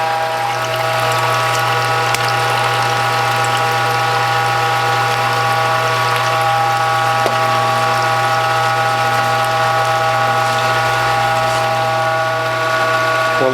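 A WHF premium juicer presses spinach, sorrel, beet and carrot, giving a steady mechanical whir with a constant motor hum and faint grinding, running alone and close for the whole stretch.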